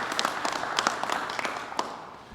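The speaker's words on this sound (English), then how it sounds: "I think we should all give him a round of applause for what he's done this time today." A brief burst of applause at a Pennsylvania state event honoring Penn State student athletes, scattered claps fading out over a couple of seconds at moderate distance.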